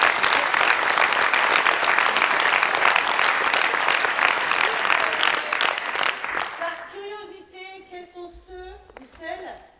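Loud, dense applause from a large theatre audience at the end of a play fills the room, then thins out into scattered claps and a few voices calling out as it fades.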